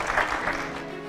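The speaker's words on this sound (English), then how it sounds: "Please give a round of applause to our excellent panelists here." A lecture audience applauds the panelists in a brief burst of dense clapping that fades quickly.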